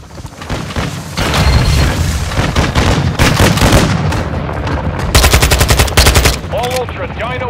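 Loud bursts of automatic gunfire from the Warzone DMZ video game crackle in rapid sustained volleys, with heavy booming shots, close and intense, and a brief voice near the end.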